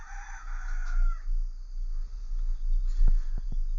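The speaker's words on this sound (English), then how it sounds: "I've got like 4 juvenile roosters down here. Um, you hear them doing their thing." Juvenile roosters: a crow trails off early, followed by a few sharp clucks or short calls, with steady low background rumble throughout.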